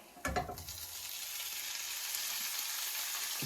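Carrot and onion tipped back into a pan of frying liver set off a loud, steady sizzle that opens with a sharp clatter and keeps hissing evenly.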